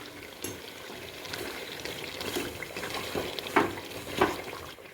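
Red masala paste sizzling and frying in a pan of home-style chicken curry, with a steady close crackle, a few louder spatters and stirring scrapes near the end.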